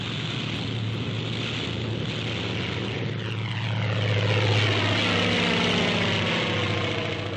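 A 1944 RAF Typhoon fighter dives, its propeller engine a loud, steady, droning roar that swells slightly in pitch and volume as it passes close, with no talk.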